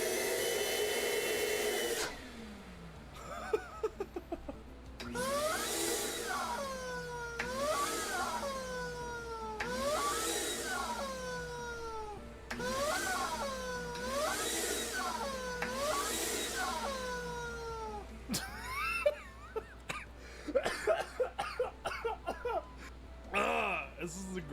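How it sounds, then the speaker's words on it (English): A vacuum cleaner sucking at a slinky gives repeated whooping, sliding tones that rise and fall in regular waves over a steady motor drone, with people talking and laughing throughout. "we'll vacuum slink it for a bit because it's funny when it makes the noise"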